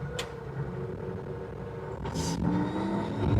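A combine harvester's engine is throttled up in a wheat field with flattened crop. Its steady, rising engine drone carries on throughout, with a brief higher rush of sound midway and no talk.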